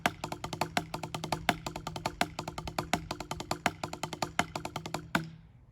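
Rapid drum rudiment of sticking strokes and quick double-stroke diddles, with louder accented hits standing out at regular points, played close and dry for about five seconds before ending on a final accent that rings out.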